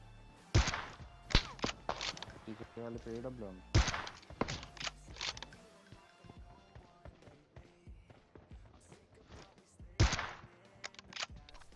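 Gunfire in PUBG Mobile: sharp single shots and short bursts ring out at irregular intervals, some loud and close, others fainter, while a player talks throughout.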